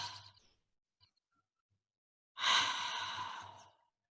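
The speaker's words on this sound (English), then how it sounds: "Taking a couple deep conscious breaths together." A slow, deep breath drawn in and then let out in a long audible sigh during a group breathing practice. The breath is close and soft, separated by near silence.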